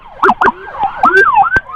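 Ambulance siren wailing and yelping in short rising-falling sweeps with sharp blips between, loud and close during an emergency escort on a road, no talk.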